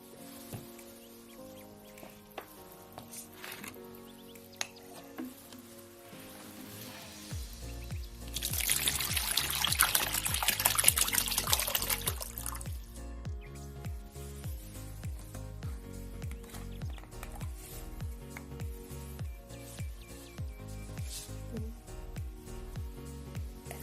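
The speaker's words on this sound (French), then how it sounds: "Donc nous allons maintenant verser l'eau là-dedans." Water poured into a flat model dam, a broad splashing gush rising for a few seconds in the middle while music plays throughout.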